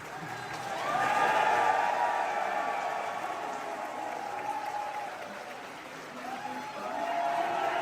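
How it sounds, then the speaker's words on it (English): A large crowd at a GDQ speedrun event cheers and applauds loudly, swelling in a big surge, easing off, then rising again near the end. "you can hear the crowd like do it twice"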